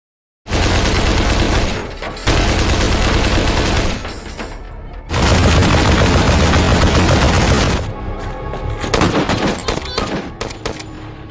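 Sustained bursts of automatic gunfire from a battle scene in the 2019 war film Mosul, set in Iraq with a SWAT team fighting ISIS, loud and dense rapid fire in long stretches broken by brief pauses, ending in scattered shots.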